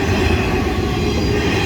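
Railcars of a work train led by a rebuilt SD70MAC locomotive roll steadily through a road crossing, a loud, close, continuous rumble of wheels on rail with no pauses and no talking.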